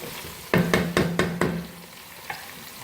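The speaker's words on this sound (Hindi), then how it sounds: "चिकन को हमने प्याज लहसुन अदरक के पेस्ट के साथ अच्छी तरह से भून लिया है" Chicken browns in a pan with onion, garlic and ginger paste, five quick scraping strokes of a spoon rasping over a low sizzle, close and clear, then one last faint scrape.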